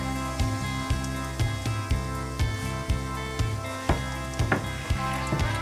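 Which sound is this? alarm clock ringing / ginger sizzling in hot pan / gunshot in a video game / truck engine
ginger sizzling in hot pan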